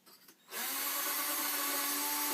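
A brass rifle cartridge case is trimmed to length on a case trimmer with a length gauge, a steady loud whirring cut that starts abruptly after a brief quieter moment and runs continuously.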